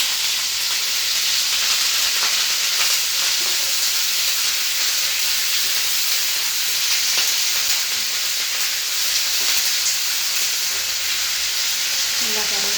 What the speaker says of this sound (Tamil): இது நல்லா கடுகு வைக்கவும் கருவேப்பிலை போட்டு அது நல்லா வளர்க்கணும்